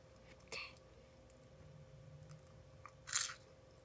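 Candy with a nut crunched and chewed close up, with two distinct crunchy bites separated by quieter, soft mastication in a hushed setting.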